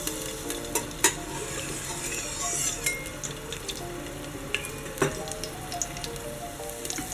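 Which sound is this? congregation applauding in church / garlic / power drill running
garlic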